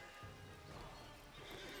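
A horse in The Lord of the Rings Online whinnies close and clearly as its hooves clip-clop, the neigh and footfalls heard alone at moderate level.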